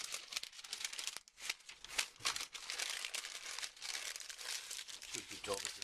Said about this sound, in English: wrap it in wax paper